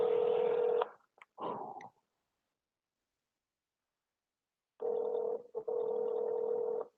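Phone ringback tones while calling someone: a long steady electronic tone, brief beeps, a silent gap, then the tone returns in two more long bursts, clean and close.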